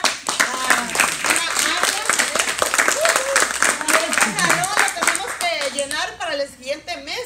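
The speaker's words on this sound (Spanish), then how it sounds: "chicas, dense un aplauso" Women in an audience clap at a Princess House team meeting, the dense clapping running throughout while a voice talks and calls out over it, in a loud, lively room.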